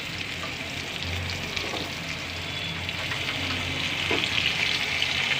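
Masala paste sizzling in hot oil in a pan for stuffed ivy gourd curry, a steady close frying hiss with faint stirring scrapes, no talking.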